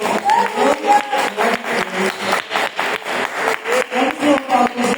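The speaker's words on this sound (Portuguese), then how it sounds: "A igreja pode dar uma salva de palmas" A church congregation applauds at a Sunday service, dense rhythmic clapping filling the room for several seconds, with some voices mixed in beneath it.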